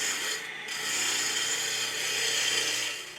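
A small wood lathe spins at about 2000 RPM, turning a piece of wood with a steady, close, soft whir and rubbing hiss, holding even apart from a brief dip near the start.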